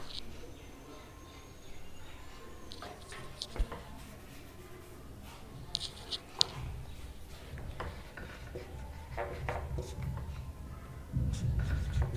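Chalk or marker writing on a board while solving a class eight maths problem: scattered scratchy strokes and taps in irregular bursts, fairly close, with some faint background voice and noise.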